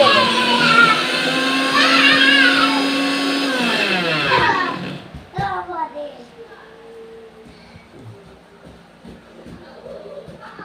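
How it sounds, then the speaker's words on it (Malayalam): A kitchen mixer grinder whirs steadily for about four seconds as it grinds green chillies, coconut, garlic, shallots and cumin, then winds down and stops. Someone talks over it and keeps talking afterward. "പച്ചമുളക് അരമുറി തേങ്ങ വെളുത്തുള്ളി ചെറുള്ളി നല്ല ജീരകം അപ്പം നമുക്കൊന്ന് ഇതൊന്ന് അരച്ചെടുത്താലോ"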